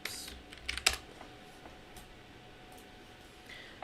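Typing on a computer keyboard, a quick close cluster of key clicks at the start followed by a few scattered taps in a quiet room.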